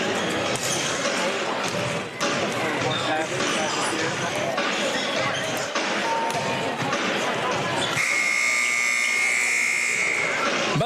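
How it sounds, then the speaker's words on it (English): A buzzer marks halftime at a girls' high school basketball game, sounding as a steady, loud electronic tone near the end, over constant crowd noise, sneaker squeaks and commentators talking. "Buzzer sounds, so that means it's time to get the second half of action underway."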